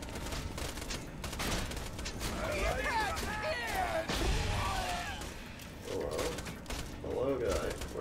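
Shotgun blasts and grenade explosions from the Borderlands 2 video game burst out in a rapid, dense fusillade of loud gunfire and crashes, with voices talking over the action.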